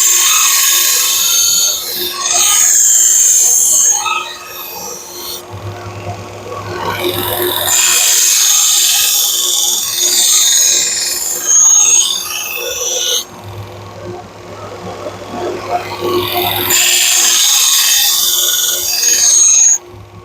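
Grinding on a Trizact abrasive belt to deburr the edge of a Shun Classic chef knife, a steady loud whine in repeated passes lasting a few seconds each, with brief drops between strokes.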